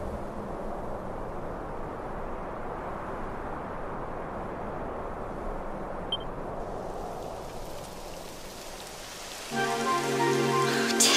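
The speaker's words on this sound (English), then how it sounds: "It would have to go and start raining, wouldn't it?" Steady rain falls in a Dragon Quest XI game scene as an even, hissing wash that runs for the whole stretch, with no voices over it. A faint beep sounds midway, and a brighter music-like tone enters near the end.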